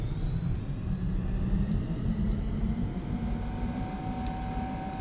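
Engines on a 747 cargo jet in Prepar3d throttle up into a loud, steady roar with a rising turbine whine, sustained and close with no voices.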